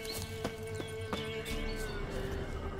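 The horse Roach in The Witcher 3 video game makes a few sharp hoof clops and snorty whinny bursts, and a steady game ambience sits under them.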